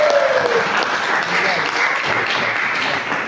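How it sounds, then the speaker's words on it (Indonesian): Audience applause at a game-design workshop event, a steady wash of many hands clapping that holds at even loudness for a few seconds, with faint voices mixed underneath. "kasih tepuk tangan buat Mas Rio"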